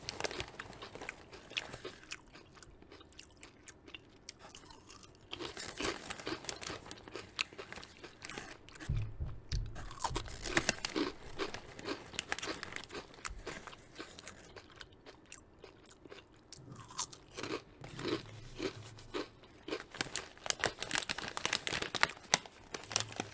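Cheesy snacks crunched and chewed close up, with repeated bites and chewing between crinkles and rustles of the crinkly bag, loud and steady throughout, no talking.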